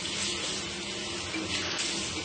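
Hot water runs from a tap in a steady, even hiss and splash, close and continuous throughout, with no talking over it.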